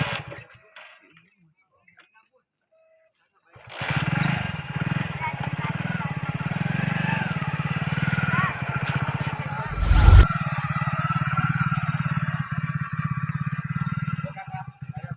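A motorcycle engine starts after a quiet moment and keeps running at a steady, close idle, with a brief louder burst midway, while people talk nearby.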